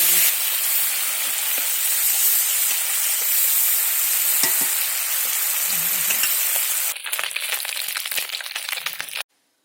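Brinjal pieces rubbed with salt and turmeric fry in oil over a cumin tempering, producing a dense, continuous sizzle; late on the hiss drops and turns to sparse crackles before cutting off.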